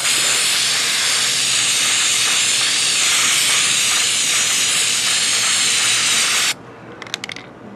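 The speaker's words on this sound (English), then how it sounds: "spray those spots" Aerosol spray paint hissing onto a chair being refinished, a loud close continuous hiss lasting several seconds before cutting off, followed by a few faint clicks and rattles.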